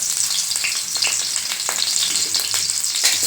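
Steady, loud sizzling of roughly chopped onions frying in hot oil, with occasional crackles and stirring clinks, no voices.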